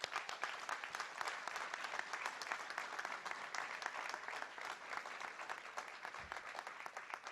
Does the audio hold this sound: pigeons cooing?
no